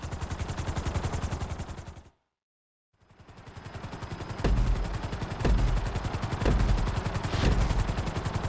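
Helicopter in the GTA V flight school, with a dense rapid rotor chop that runs loud and steady, drops out for about a second, then returns with heavier thumping pulses.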